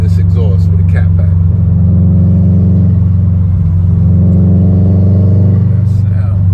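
Deep exhaust rumble from a car fitted with a cat-back exhaust as the gas is lightly tapped without shifting, low steady burble swelling twice, with someone talking briefly at the start and end.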